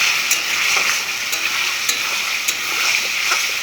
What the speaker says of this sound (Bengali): আমি যে আলুটা যে আমি মশলা দিয়ে ভাজা ভাজা করছি